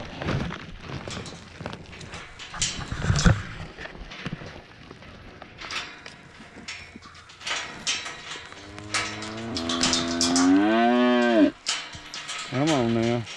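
Cattle at feeding time bellow and moo loudly and close, several long drawn-out calls toward the end, over a busy background of shuffling hooves, clanks and farmyard movement.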